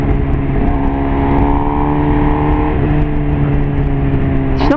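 A Suzuki GSX-R SRAD sport motorcycle running on adulterated gasoline, its engine droning steadily and close throughout with a constant humming tone, shifting briefly at the very end.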